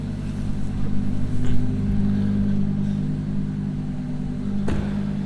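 A 2019 Audi R8 5.2 V10 Performance Cabriolet engine idles with a deep, steady rumble, rising in a couple of brief revs before settling back to a low hum.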